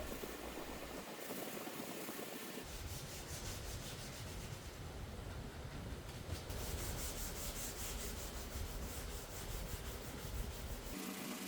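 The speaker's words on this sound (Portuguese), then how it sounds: "eu fiz todo o processo de lixamento manualmente, indo até a lixa de grão 600" Repeated rhythmic scratching of fine sandpaper, up to 600 grit, rubbed back and forth by hand across a wooden chessboard, close and steady, with no voices.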